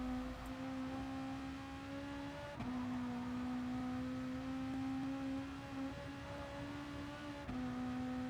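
A race car engine accelerates hard in Gran Turismo Sport on the Nurburgring 24hr circuit, a sustained buzzing whine rising steadily in pitch, broken by a couple of quick gear-change dips, heard alone at even volume.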